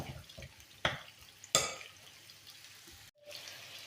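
Soft scraping and light sizzling of minced meat with semolina being stirred in a pan, with a few sharper clinks of a utensil against the pan.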